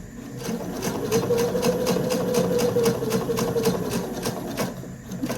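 A sewing machine stitches down the binding at a quilted placemat's corner with a fast, even mechanical whirr and regular needle clatter, close and steady, with no talking.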